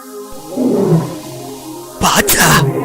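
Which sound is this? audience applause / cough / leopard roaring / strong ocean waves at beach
leopard roaring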